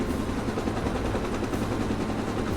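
A supply helicopter in a video game: a steady, fairly faint rotor whir and engine drone, continuous and unchanging throughout, with no voices.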